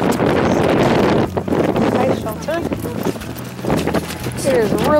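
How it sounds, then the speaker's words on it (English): Strong wind buffets the microphone in a steady roar on a frozen lake in Alaska, with a few voices talking underneath. "It is really windy out here."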